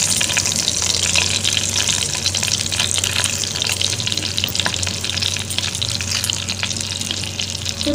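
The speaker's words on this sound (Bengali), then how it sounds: "গোটা গরম মশলা, জিরে ফোড়ন দেব" Whole spices, bay leaf, cardamom, cinnamon and cumin seeds fry in hot oil for a Bengali prawn and pointed gourd dish, giving a steady loud sizzle and crackle that runs unbroken throughout with no talking.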